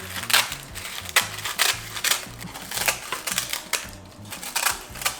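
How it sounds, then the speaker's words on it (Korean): Scissors snip through sheets of roasted gim seaweed in a steady series of crisp, crackly crunches, each cut rustling the dry brittle sheets, close and distinct with no talking. "가위 이렇게 잘라주시면 돼요"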